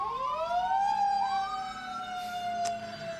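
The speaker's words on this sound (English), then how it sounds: "Sorry for the ambulance." An ambulance siren passes outside, a loud wailing tone sweeping up and leveling off with overlapping rising pitches, close and clear, with a brief sharp click near the end.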